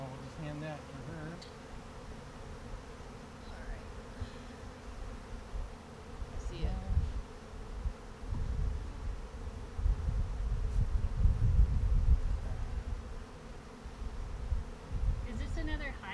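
Honeybees buzzing steadily during a hive transfer, a close, continuous droning hum with swelling low rumbles and faint handling noises.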